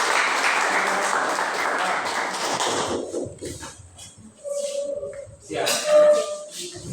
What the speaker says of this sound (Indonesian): tepuk tangan dulu untuk kelompok satu